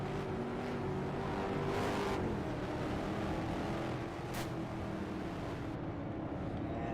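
Race cars in a Superstar heat race rumble through a steady, continuous engine drone with a brief rising rev partway through, the pack sounding moderately distant with no one talking.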